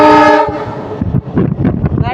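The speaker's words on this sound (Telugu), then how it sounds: "ట్రైన్ అంకుల్ కోపం వచ్చింటుందో హార్న్లు కొడుతున్నాడు." A loud, close blast from the horn of the Hyderabad Express train, a sustained tone that breaks into the rumble and clatter of the passing train.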